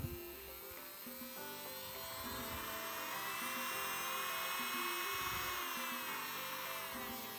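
A MOOX PRO X777 electric nail drill spins at high speed with a steady, piercing whine that swells slightly in loudness and holds, close and alone.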